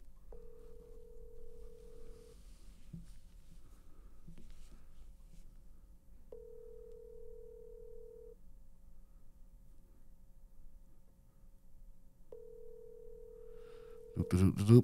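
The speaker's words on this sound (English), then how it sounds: "let's hope this motherfucker answered the phone" An outgoing telephone ring repeats three times, long steady tones spaced apart against a quiet line, before a loud burst of noise at the end.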